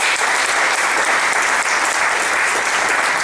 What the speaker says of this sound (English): I want to give a round of applause for all the new guests.